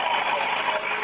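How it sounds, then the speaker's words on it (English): Marak engine driving a gold mining pump at a placer mining site, a steady continuous engine drone with an even rumble and no break, fairly loud and close. "This is the Marak engine"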